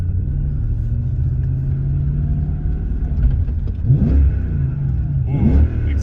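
The V8 of a BMW E23 rumbles steadily through its exhaust while the car drives, with two throttle blips raising the pitch and volume near the end, and a voice speaks faintly in the background.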